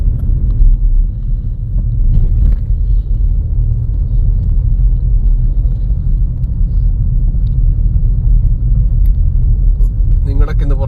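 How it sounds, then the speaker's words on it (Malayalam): Vehicles roll along a road in Ernakulam on a strike day, making a loud, continuous low traffic rumble close by, with wind buffeting the microphone and a few faint clicks near the end. "അത്യാവശ്യം വണ്ടികളൊക്കെ നമ്മുടെ എറണാകുളത്ത് ഓടുന്നുണ്ട് കേട്ടോ"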